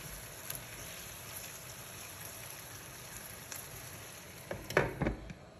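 Tteokbokki rice cakes simmering covered in a pan give a steady soft bubbling hiss throughout, with a few brief louder clinks or pops near the end.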